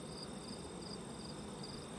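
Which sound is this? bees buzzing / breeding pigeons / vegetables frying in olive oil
bees buzzing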